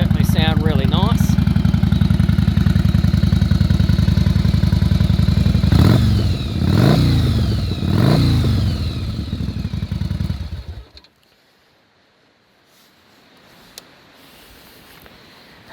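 A Yamaha Virago 750 V-twin with aftermarket exhaust pipes idles with a close, loud, low rumble, then revs three times before the engine cuts off and the sound falls to near silence.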